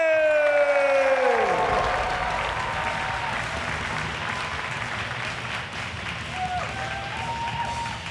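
Audience applause for both fighters at the Super Fight Championship martial arts event, a sustained crowd clapping that fills the hall, with a loud cheer at the start and announcer talk briefly heard over it.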